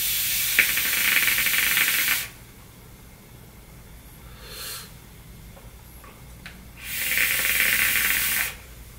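An e-cigarette set to 42 watts, with its airflow about two-thirds open, hisses in two long steady draws, and a fainter brief hiss comes between them.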